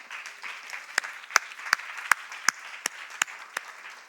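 Scattered claps from a church congregation at a Spanish-language Easter Sunday service, sparse and irregular at a moderate distance, with faint murmuring between the claps.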